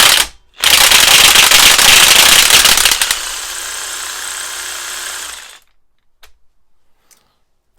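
A high-torque impact wrench with a ratchet and torque extender hammers loose a stubborn bolt. A loud rapid rattling burst runs for about five seconds, then drops to a lighter whirring spin before stopping, followed by a few faint clicks.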